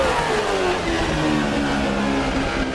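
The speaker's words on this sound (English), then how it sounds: "That was it blowing the exhaust out of the diffuser and creating extra downforce." An F1 car with a double blown diffuser in a racing video game at Suzuka, its engine note loud and continuous and sweeping gradually downward in pitch, with no voices.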